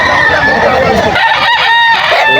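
At the Bocaue poultry market in Bulacan, a bull stag rooster crows loudly amid dense clucking and crowing from other fowl, with only faint voices underneath.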